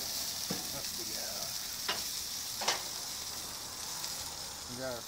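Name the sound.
pork steaks sizzling on a barbecue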